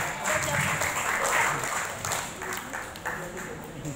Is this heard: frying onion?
no